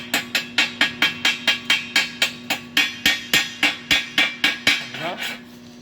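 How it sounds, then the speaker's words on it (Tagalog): Metal hammer strikes chip flux slag off a fresh weld, about twenty sharp, ringing taps in a fast, even rhythm, close and loud, with a steady hum underneath. "Tanggalin natin yung flux."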